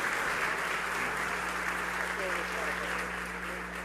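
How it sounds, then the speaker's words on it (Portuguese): Church congregation applauding together during a service, a steady, dense wash of clapping that holds at an even level throughout, with a low hum running underneath. "Podemos aplaudir o Senhor pela vida desses irmãos"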